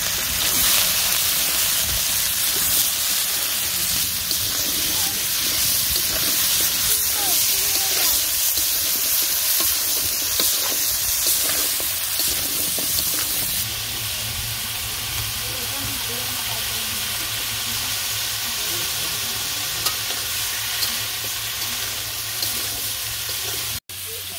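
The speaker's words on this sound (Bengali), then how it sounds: "দিয়ে দিলাম লবণ, নাড়াচাড়া দিয়ে দিই" Curry seasoned with salt fries in a pan, a loud continuous sizzle with occasional scraping as it is stirred, steady throughout before cutting off abruptly at the end.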